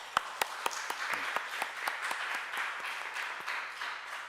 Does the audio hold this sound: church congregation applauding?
yes